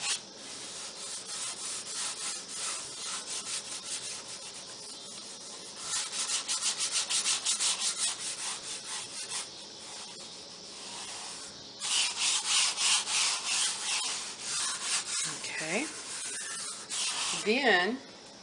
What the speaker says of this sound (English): just kind of rub it down so that all the ink comes into contact